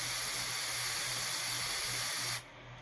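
A fragrance atomizer releases one long, continuous hissing spray, loud and close, before cutting off abruptly near the end.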